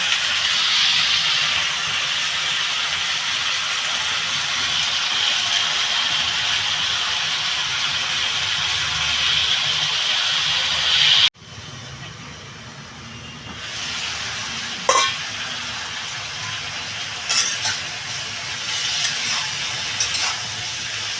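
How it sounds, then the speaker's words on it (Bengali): Spinach (palong shak) curry fries in a pan with a loud, steady sizzling hiss. The sizzle abruptly drops to a quieter simmer, and occasional clinks of stirring follow. "আর একটু কষাবো তরকারিটা"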